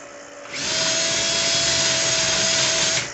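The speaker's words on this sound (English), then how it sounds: "it takes just a second to run the drill motor." A power drill motor whirs steadily at high speed for a few seconds while trimming .223 cartridge cases for reloading, spinning up quickly and cutting off near the end, with a faint constant tone beneath.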